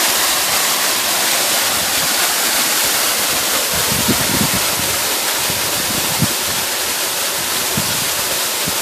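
Continuous broadband rush of water from a man-made waterfall, steady and fairly loud outdoors, with some low wind buffeting on the microphone and no talk.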